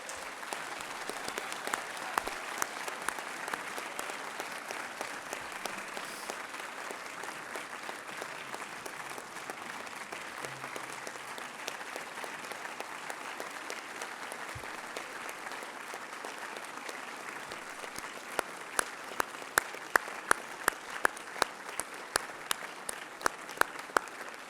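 Audience at the 2019 BC Achievement Award ceremony applauding 24 honourees, a long sustained round of many hands clapping in a large hall, steady for most of its length, with sharper individual claps standing out toward the end.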